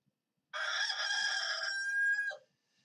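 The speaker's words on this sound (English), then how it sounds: "like the crowing of a rooster." A rooster crows once, loud and close, a bright drawn-out call that starts abruptly, holds a strained tone, then cuts off into quiet.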